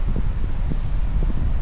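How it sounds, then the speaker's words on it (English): Strong beach wind buffets the microphone in steady low rumbling gusts, loud and continuous throughout. "Sorry about the wind."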